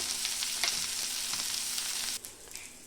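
Mackerel (bangude) fish fry sizzling steadily in oil in a pan, a close, continuous hiss that drops noticeably quieter near the end, with no talking.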